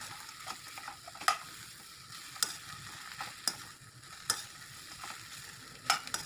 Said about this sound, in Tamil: கொஞ்சமாக தண்ணி தெளித்து நல்லா கலந்து விட்ருங்க